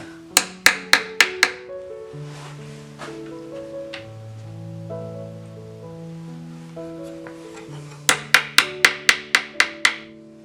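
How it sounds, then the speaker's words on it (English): Small wooden buttons tapped into screw holes on a repurposed coffee table, two quick bursts of about five sharp, close taps each, separated by a stretch of sustained tonal music. "putting these little wood buttons back in"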